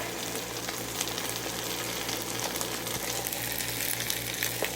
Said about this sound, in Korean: 열무김치 푹익군거 넣고 볶고 있습니다